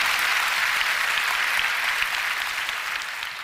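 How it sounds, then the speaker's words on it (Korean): Dense applause from a congregation at a prayer meeting, a full wash of clapping that holds steady and then tapers slightly toward the end. "박수!"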